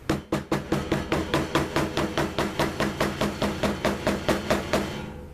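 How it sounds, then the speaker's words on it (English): A hammer pounds the glued leather welt of a holster in a fast, regular run of about twenty sharp, close blows, each ringing briefly before the next. "Now I'm going to beat the crap out of it with my hammer."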